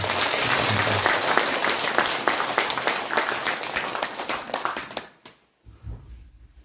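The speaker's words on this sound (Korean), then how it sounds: "박수 한번 쳐주세요" Crowd applause at a talk, loud and dense with distinct individual claps, thinning out and fading to near silence near the end before a brief low sound returns.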